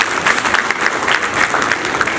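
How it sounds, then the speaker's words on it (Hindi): An Ayurveda seminar audience in Bathinda claps for Dr. Sanjeev Pathak, a short, loud burst of crowded applause with no voices over it. "इनके लिए फिर से जोरदार तालियां चाहिए।"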